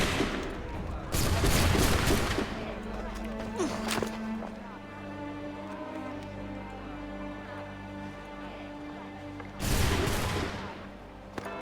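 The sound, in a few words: musket volley gunfire in video game Assassin's Creed III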